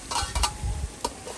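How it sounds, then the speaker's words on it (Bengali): Chicken curry being stirred in a pan with onion, garlic and ginger paste, a few soft scraping strokes and light sizzling close by with no talking. "এখন একটু নাড়া দিয়ে নিতেছি।"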